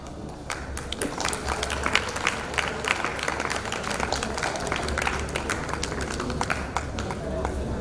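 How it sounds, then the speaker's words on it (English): Audience applause at a felicitation ceremony, a steady wash of clapping from a crowd throughout, with voices mixed in beneath it. "A huge round of applause for Scottish Early Years."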